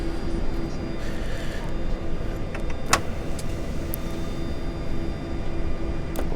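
A NASA Boeing 747SP SOFIA taxis off runway 25 at Palmdale after landing. A steady, loud cockpit rumble from the engines and airframe runs throughout, with faint radio voices and a sharp click near the middle.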